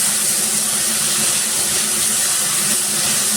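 Boiled jackfruit seeds dropped into a hot frying pan give a steady, dense sizzle and hiss that holds at an even level throughout, with no talking.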